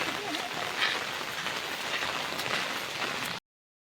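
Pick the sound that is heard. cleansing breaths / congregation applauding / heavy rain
heavy rain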